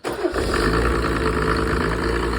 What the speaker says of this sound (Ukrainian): Так, запускаємо без свічок.